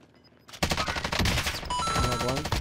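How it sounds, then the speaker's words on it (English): Rapid gunfire from a Warzone match, sniper fire among it, starts abruptly after a quiet moment and keeps going as dense, loud volleys of shots close by with no voices. "I'm getting sniped from somewhere."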